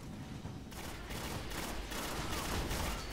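Shotgun fire in the video game Destiny comes as dense, loud bursts of blasts and crackling gunfire that rise after a brief lull and keep going without pause.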